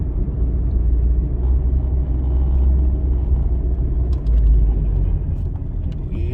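A car drives into a scenic desert mountain parkway at Gates Pass near Tucson, its engine and tire noise a steady, close low rumble that swells slightly near the end, with no talking.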